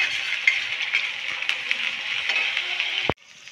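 Onions frying in a pan, a loud continuous sizzle with faint spoon clinks, cut off abruptly near the end to a quieter hiss.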